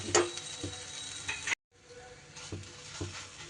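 A fish omelette frying in a pan, a low sizzle broken by spatula scrapes and taps as it is pressed and turned, with a brief cut in the sound partway through.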